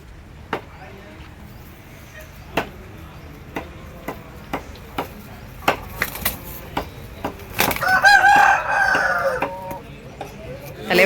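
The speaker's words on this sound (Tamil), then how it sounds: "சண்டை சேவல் பார்த்துக்குங்க." A fighting rooster lets out one loud, drawn-out crow near the end, amid a steady run of sharp, repeated chopping knocks at a country-chicken feast in Sankagiri.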